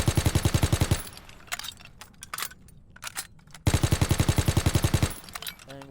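Nambu Type 100 submachine gun fire in a Call of Duty game: two loud, rapid bursts of evenly spaced shots, each about a second long, separated by quieter clicks and mechanical clatter.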